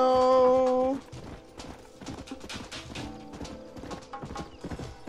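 Horse hooves clip-clop in a quick trotting rhythm in the Western video game Red Dead Redemption, following a short loud whinny at the start, with several horses heard moving nearby.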